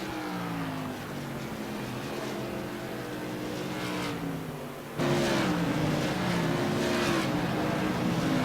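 Tour Modified race cars scream down a speedway straightaway at South Boston Speedway with a steady, high engine drone that jumps louder midway as a closer car roars past.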